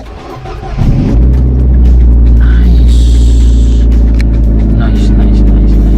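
A Nissan Livina XR engine fitted with a new Bosch NS60L battery cranks and starts, settling into a loud, steady idle rumble close by, with people talking over it.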